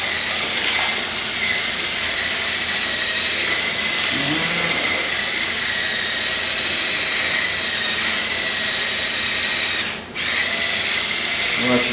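A loud, steady whine of an electric mixer creams butter for Wookiee cookies from a Star Wars cookbook, running close and continuously with a brief dip near the end.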